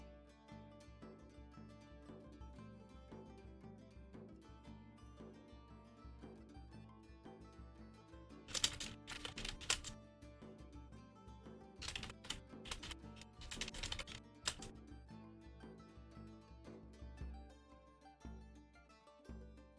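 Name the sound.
computer keyboard typing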